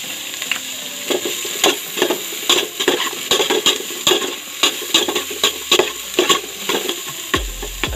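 Onions sautéing in a hot pan for goto with beef offal, a steady sizzle broken by repeated sharp clinks and scrapes of a utensil stirring against the pan, close and fairly loud with no talking.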